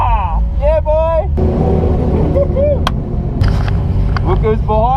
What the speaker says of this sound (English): We're going in Brucey's car!